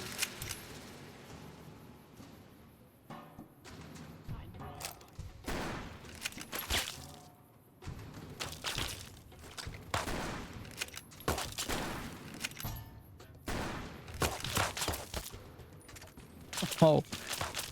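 Gunfire in the video game Fallout: Tale of Two Wastelands, with scattered shots and bursts of fire spread across the clip, some louder and closer than others, mixed with game ambience.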